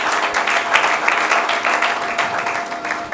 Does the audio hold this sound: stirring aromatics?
no